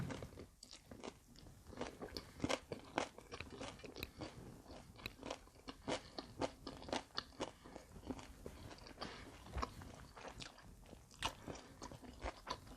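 Close, crisp crunching and biting of crispy Thai rice crackers (khao tang) eaten with som tam and pla ra, repeated bites and chews in an irregular rhythm throughout with no talking.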